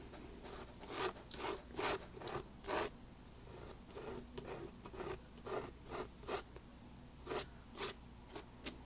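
A palette knife spreads embossing paste across a craft stencil in short, rhythmic scraping strokes, each a soft rasp with brief pauses between. The strokes are quiet and close, with no voice.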